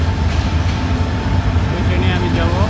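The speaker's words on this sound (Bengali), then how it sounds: "তো আমার ট্রেন চলে আসছে" Mohanagar Express train arriving at Kamalapur railway station, with a steady low rumble and broad mechanical noise filling a busy platform for a few seconds.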